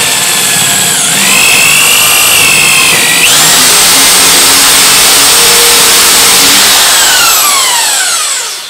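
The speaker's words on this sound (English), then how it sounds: "Keep the drill vertical. Start it off dead centre." A power drill whines loudly and steadily, its pitch dipping as the bit bites into oak, then winding down at the end.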